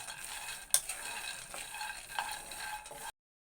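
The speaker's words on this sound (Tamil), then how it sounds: "2 கப்பு மலாட்டை போட்டுக்கலாம். நல்லா வறுத்துக்கலாம் மலாட்டையை." Peanuts dry-roasting in a pan for laddu, with a soft continuous rustle and occasional scraping clicks of the spoon as they are stirred. The sound is close and moderately quiet, then stops abruptly.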